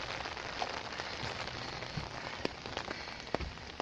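Heavy rain pours down in a steady, dense hiss, with scattered sharper drips and pops standing out over the continuous wash.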